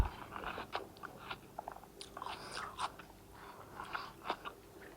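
Toasted white bread spread with chocolate is bitten and chewed up close, giving a quiet series of dry crunches and crackles spaced irregularly through the clip over a soft background hiss.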